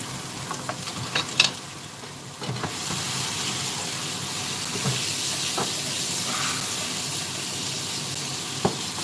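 Carrots sizzle and fry in a hot pan with a loud, steady hiss, punctuated by a few clinks and stirring knocks, with no voices.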